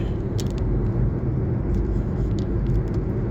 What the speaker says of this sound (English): we're driving along